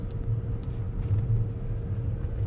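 Low engine and road rumble heard from inside a stock Chevrolet Tahoe Z71 driving through snow, a steady muffled drone that stays fairly even throughout.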